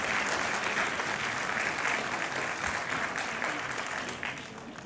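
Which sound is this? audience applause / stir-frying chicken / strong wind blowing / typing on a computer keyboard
audience applause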